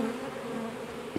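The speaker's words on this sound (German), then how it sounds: "Vielleicht fliegen die anderen Bienen ja automatisch unten in den Kasten rein." A large honeybee swarm being caught, about three kilograms of bees, fills the air with a steady, dense buzzing hum, close and continuous with no voices.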